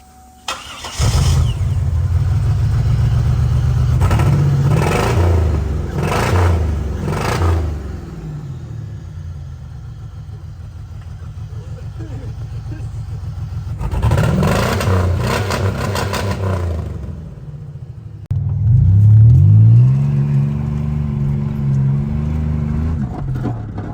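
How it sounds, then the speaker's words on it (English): A loud car engine with straight-pipe exhaust, no muffler or resonator, revs hard in repeated bursts, blaring and crackling, then settles into a rough, rumbling idle between throttle blips. "So we're playing with straight pipes. We got it basically no muffler, no resonator."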